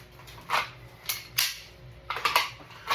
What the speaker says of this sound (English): Walther PVP steel frame is an excellent dry fire gun. Trigger keeps moving after the striker falls.